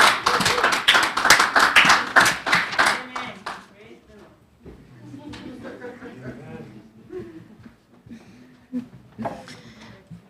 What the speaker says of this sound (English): I could hear the applaud